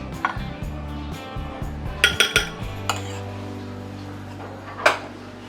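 Cornflour and ghee mixture beaten in a bowl, with irregular metallic clinks and taps of a utensil against the bowl over a low steady background hum.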